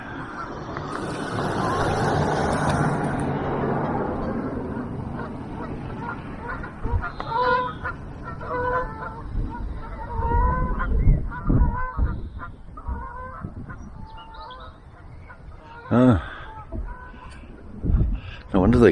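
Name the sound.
geese honking while flying in to land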